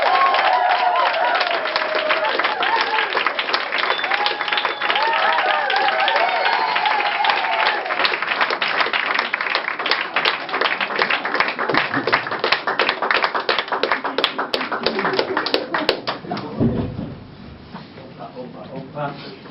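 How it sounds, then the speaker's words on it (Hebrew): An audience at a lively group game event claps in sustained, dense applause that fills most of the stretch, with voices talking over it, before thinning out and fading near the end. "אז עכשיו במחיאות כפיים סוערות,"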